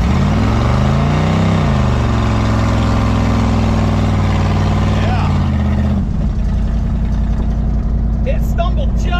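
A Buick 455 V8 with a freshly broken-in camshaft revs hard through a burnout, a loud, close, continuous roar that climbs and falls, then drops to a rougher idle near the end.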